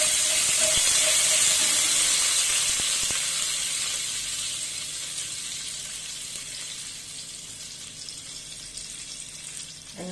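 Hing and curry leaves sizzle in hot oil in a pan for South Indian sambar, a steady bright hiss that is loudest at the start and eases slightly over time, with a few faint clinks.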